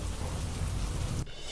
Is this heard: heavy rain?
yes